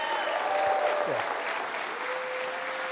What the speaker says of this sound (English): I just would love to give him a round of applause for his amazing work